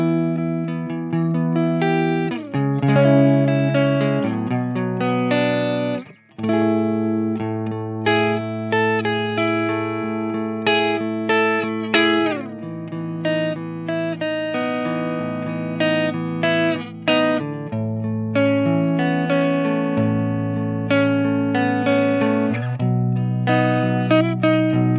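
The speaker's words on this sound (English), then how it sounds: "this is how we could get some nice clean tones." A clean electric guitar tone played through an Orange Tiny Terror lunchbox amp, gain low and volume up, sitting on the edge of breakup; chords and single notes ring out loud and close with brief pauses and no talking.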